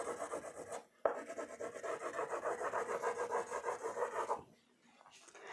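A crayon is rubbed back and forth across paper while colouring a simple drawing, giving close, soft, rhythmic scratchy strokes that continue steadily before stopping near the end.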